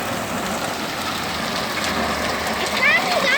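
Rain falling in a steady, dense hiss, close and even throughout, with a faint high chirp near the end.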